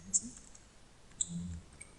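A few isolated clicks from a computer keyboard being typed on, soft and close, with two distinct taps separated by a quiet pause and a faint murmur in the background.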